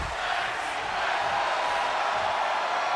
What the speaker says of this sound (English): And the crowd chanting tag team wrestling on the spot